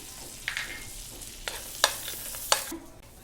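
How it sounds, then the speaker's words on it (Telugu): Cashews frying in melted butter give a soft sizzle, with several sharp utensil scrapes and clinks from stirring close by. "ఈ కాజు మొత్తం ఫ్రై కావాలండి ఫ్రై చేసేసుకుని వీటిని పక్కకు పెట్టుకోవాలి"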